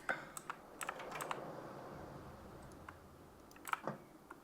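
Scattered clicks of keys being pressed on a computer keyboard, a few quick taps in small clusters with pauses between, quiet and close against a soft background hiss.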